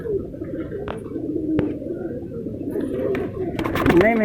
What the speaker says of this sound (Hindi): कबूतर मेरे बाहर बैठे हैं अभी